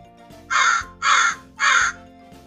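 A crow caws three times in an even rhythm, harsh and loud, with faint background noise between calls.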